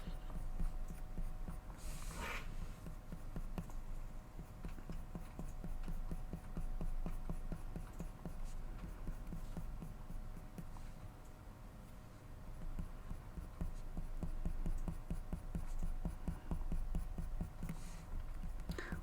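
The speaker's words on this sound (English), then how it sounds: "hearing the hypnotic sound of the pencil hitting the paper" Pencil strokes on paper while shading wolf fur in a drawing, a faint, continuous rapid scratching and tapping rhythm throughout, quiet and close with no talking.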